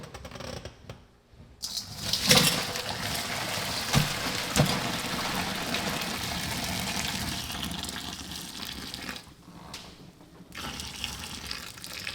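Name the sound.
pouring boiled potatoes and water into a colander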